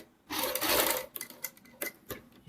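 A sewing machine stitching around a kurti neckline gives a short, dense whirring run near the start, then a few scattered taps and mechanical clicks, close and moderately loud.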